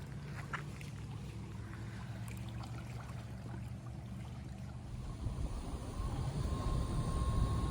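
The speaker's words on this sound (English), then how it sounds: "And there's another boat going across." A boat engine drones steadily in the distance at Santee National Wildlife Refuge, Summerton, a low rumble that grows a little louder toward the end, with faint outdoor ambience.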